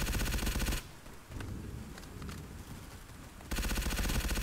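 Gunfire in Roblox Blackhawk Rescue Mission 5, loud rapid automatic bursts at the start and end with quieter scattered distant shots between, no voices.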